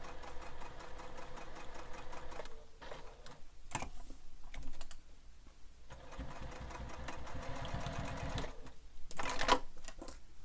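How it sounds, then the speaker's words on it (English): A sewing machine runs in short bursts, rapid close stitching rattles stopping and starting several times as it backstitches on a bowler bag project. "I'm going to go backwards a couple of stitches just to make sure it clears my presser foot."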